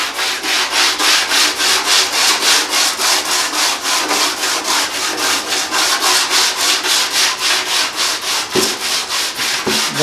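A car fender being sanded by hand with steady, rhythmic strokes, loud and close, the rasping swish repeating evenly about three times a second, with two brief knocks near the end.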